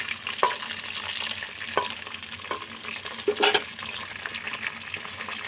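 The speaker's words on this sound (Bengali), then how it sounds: "এখানে সবগুলো আমি ভেজে নিচ্ছি এইভাবে। গ্যাস কমিয়ে রাখতে হবে" Pointed gourd (potol) pieces frying in a pan over low gas make a soft continuous sizzle, with several sharp utensil clicks and taps spread across it and no voices.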